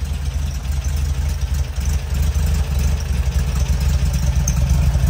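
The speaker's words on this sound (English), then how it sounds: "This one's got a cute little putt-putt around the back." A 1965 Volkswagen Beetle idles with a soft, steady putt-putt from its rear exhaust, a low, even rumble heard close by with no voices.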